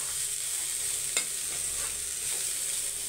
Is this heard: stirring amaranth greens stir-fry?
yes